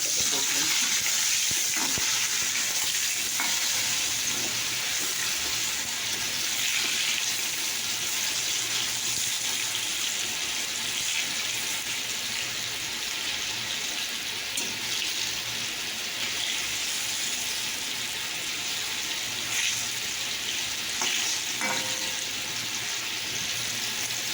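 Curry sizzles and fries steadily in a pan, with faint scraping and stirring clicks over a continuous crackling hiss and occasional louder spatters.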